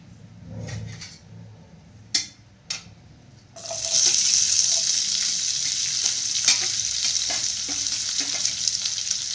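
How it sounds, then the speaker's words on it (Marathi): Onion dropped into hot oil with cumin and ginger-garlic paste for vangyache bharit: after a few light knocks, a loud, steady sizzle bursts in and carries on close by, with occasional stirring clinks and no talking. "आता आपले जिरे आणि अद्रक लसूणची पेस्ट चांगली परतलेली आहे आपण त्यामध्ये कांदा टाकू"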